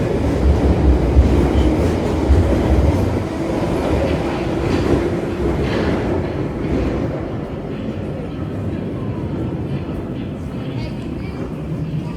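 London Underground train at an underground railway station, a loud rumbling roar of the train that gradually eases into a steadier, fainter whoosh of moving air.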